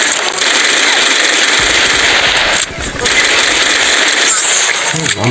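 Rapid, continuous gunfire from the video game Swamp Attack, dense and loud throughout, with a brief lull midway and a player's voice occasionally under it.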